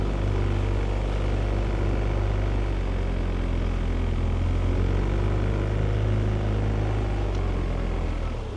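An outboard motor drives a small boat along a river, a steady, loud engine drone running continuously and close by with no break.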